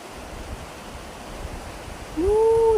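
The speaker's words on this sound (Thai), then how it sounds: "น้ำไหลลงมาจากบนภูเขานู่น" Water flows down from a mountain beside a rural river, a steady soft broadband rush with no break, heard from a bicycle ride through a village; a brief whistle-like tone rises near the end.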